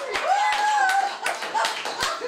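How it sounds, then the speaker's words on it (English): An audience claps in a pub, with scattered, uneven claps close by. A voice or whistling tone rises and falls over the claps. "we're going to have a round of applause"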